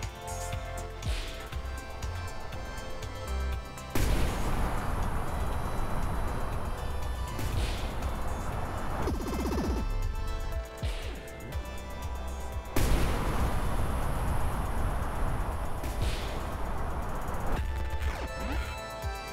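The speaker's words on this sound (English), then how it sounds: "You have to use those rockets." Rockets firing in the video game Verlet Swing, a continuous roaring blast that cuts in and out in long bursts, loud and dense, with short quieter gaps between firings.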